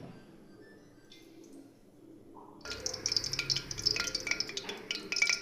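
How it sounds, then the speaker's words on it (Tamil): Cooking oil is poured into a half-kilo cooking pot, starting as a quiet trickle and turning into a louder, steady splashing stream partway through. "எண்ணெயை நம்ம இதில் ஊற்றிடலாம்."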